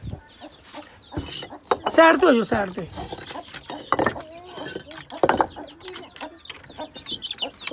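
Village hens and small chicks cluck and peep close by on a rooftop coop, in short scattered bursts, while people talk over and between the calls.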